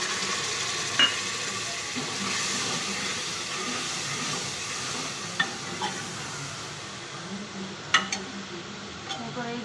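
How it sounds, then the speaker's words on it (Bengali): Tamarind water poured into a hot cooking pan for sambar sets off a steady, close hiss and sizzle with a few faint clinks over it. "তেঁতুল জলটা আমি দিচ্ছি"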